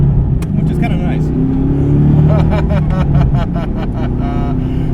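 A 520 hp LS3 V8 swapped into a 2016 ND Mazda MX-5 Miata rumbles deeply from inside the cabin with the windows up, rising and settling as it drives, while people talk over it.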